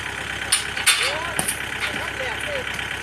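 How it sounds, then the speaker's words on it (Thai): A steady, rumbling 47-horsepower Kubota tractor engine idles throughout while a person talks over it. "อันนี้เป็นรถไถคูโบต้า47 แรงนะคะ"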